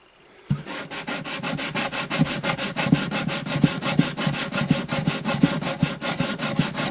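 Rapid back-and-forth scraping of sandpaper lightly sanding a rosewood guitar bridge, a quick even rhythm of strokes, close and continuous.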